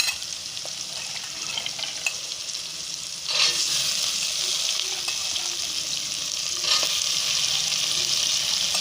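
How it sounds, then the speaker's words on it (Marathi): Shravan ghevda beans frying in a pan while cooking rice: a steady, close hissing sizzle that swells louder partway through, with faint stirring scrapes and no talk. "आता आपण हा श्रावण घेवडा घालूया"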